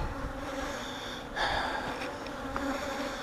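Honey bees drone around a hive in a continuous close buzz, with individual insects rising louder as they pass near, over a soft outdoor background and no talking.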